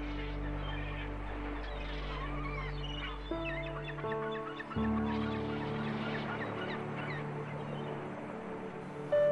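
Seabirds call from a puffin colony on the Commander Islands, a dense layered chorus of honking, droning calls at close range, with tones shifting and a few louder notes near the end.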